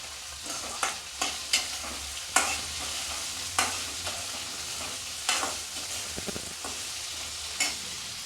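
Tomato and onion sautéing in a pan with salt, a constant hissing sizzle broken by regular scraping spoon strokes, close and steady.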